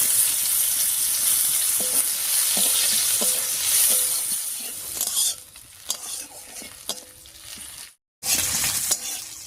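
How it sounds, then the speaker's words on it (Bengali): Torn dried chili and chopped onion hit leftover fish-frying oil, sizzling loudly and steadily close up while a spatula stirs and scrapes the pan, the hiss fading as it settles. "এবারে মাছ ভাজার এই তেলের মধ্যেই একটা শুকনো লঙ্কা আর পেঁয়াজ কুচি দিয়ে ফোড়ন দিব"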